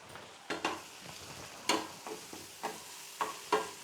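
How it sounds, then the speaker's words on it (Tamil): Spice masala sautés in a pan for a plantain stir-fry with onion, tomato and asafoetida: a soft sizzle sits under a series of sharp, spaced spatula scrapes and taps against the pan. "மசாலா வந்து வதங்கட்டும்"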